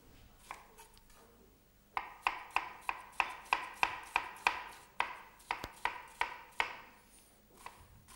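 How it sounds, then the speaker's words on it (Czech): An onion is finely chopped with a knife on a board in a kitchen, producing a steady run of crisp, close, evenly spaced chops after a few scattered cuts, with no talking. "takže cibuli si nakrájíme najemnou"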